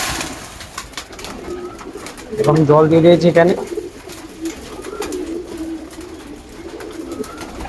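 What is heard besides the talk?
breeder pigeons cooing while eating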